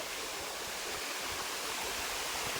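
Steady, full rush of water pouring down a waterfall in Konkan, a constant roaring hiss with no breaks, heard up close.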